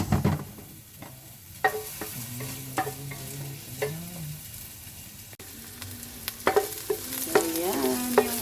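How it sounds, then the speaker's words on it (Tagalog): Garlic and onion sautéing in a pan, a soft sizzle under repeated scraping and stirring strokes from a utensil, close and fairly quiet. "ginigisa na muna natin guys yung ating bawang at sibuyas"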